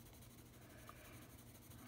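Colored pencils hatching on textured paper make a faint, continuous scratchy rasp, quiet and close, with no speech over it.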